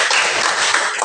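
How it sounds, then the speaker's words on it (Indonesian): Short burst of classroom applause, a dense wash of many hands clapping together at steady loudness, with no talking over it. "Tepuk tangan"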